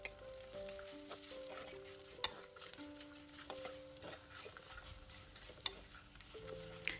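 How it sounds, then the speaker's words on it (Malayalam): Shallots and green chilies sauté quietly in a pan for a Kerala-style fish curry, with a soft low sizzle, scattered stirring scrapes and occasional clicks, and faint background music underneath. "ഇനി ചെറുള്ളി ഒന്ന് വഴറ്റിയെടുക്കണം."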